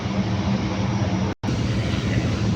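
A plane's engine drones steadily while the aircraft waits to take off, with a helicopter arriving nearby; the broadband roar holds loud and continuous apart from one brief cut.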